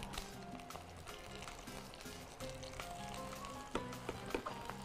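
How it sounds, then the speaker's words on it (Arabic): Mumbar sausages sizzle and crackle in hot oil, a steady frying hiss with scattered pops, heard up close alongside clinking and other kitchen sounds. "ونحمر الكام ممبرايه اللي باقيين معانا دول"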